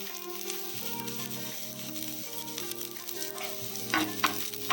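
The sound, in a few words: chopped garlic frying on a tawa for pan-fried momos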